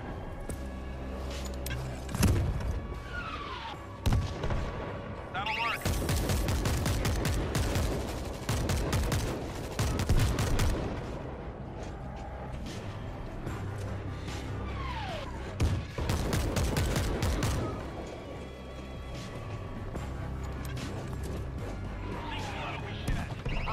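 Repeated gunfire and heavy mortar-like blasts in the zombie shooter World War Z, with bursts of automatic fire and impacts coming in dense waves over about twenty seconds, loud and continuous, mixed with game voices and background noise.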